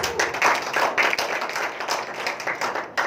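Church congregation clapping together in a worship service, a dense burst of rhythmic applause with irregular louder peaks, no talking over it.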